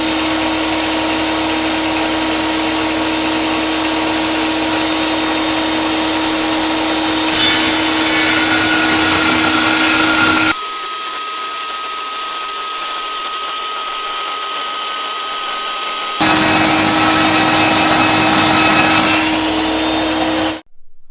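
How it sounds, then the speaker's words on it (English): An electric drill spins a wooden piece to round it off for a dual spiral twist, making a steady motorized whine with a rasping, rubbing edge that swells louder in two bursts, with no talking. "So now I can spin the piece with my drill."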